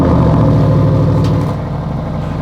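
An Audi RS6 engine revs briefly, a loud close mid-pitched burst with rumbling harmonics that eases down toward idle within a couple of seconds.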